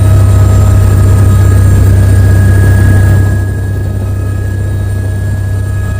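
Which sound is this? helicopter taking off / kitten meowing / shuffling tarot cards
helicopter taking off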